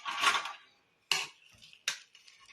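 A metal tawa griddle set down on a kitchen stove gives three sharp metallic clanks, close and clear, with brief ringing after each.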